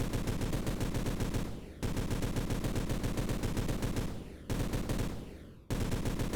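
Rapid automatic gunfire from a rifle and pistol in a Godot third-person shooter game, dense repeated shots in three loud sustained bursts separated by brief pauses, with no talking.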